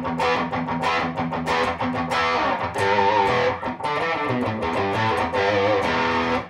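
Mahogany electric guitar played through a Carvin V3M amp with the drive turned down, giving a classic mildly overdriven tone; continuous strummed chords and riffs ring out loud and close, with no voices.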